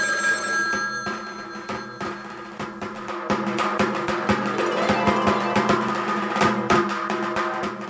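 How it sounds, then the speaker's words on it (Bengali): A mobile phone rings in repeated bright electronic pulses with a steady rhythm. It sounds loud and close and keeps going for several seconds with no talking. "আমি চোখ বুজে বলে দিতে পারি এটা কার ফোন।"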